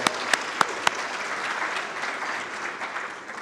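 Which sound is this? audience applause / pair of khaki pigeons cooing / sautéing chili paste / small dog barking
audience applause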